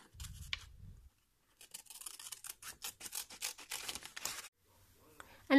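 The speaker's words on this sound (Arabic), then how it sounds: "ودابا نبدا نقطع." Scissors snip through paper in a series of short, crisp cuts at an uneven pace, close to the microphone, after a brief low rustle and a moment of quiet.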